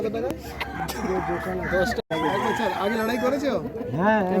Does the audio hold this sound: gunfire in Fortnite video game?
no